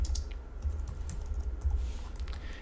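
Computer keyboard typing: faint, quick clicks of keys in an irregular run, close to the microphone over a low room hum, with nobody speaking.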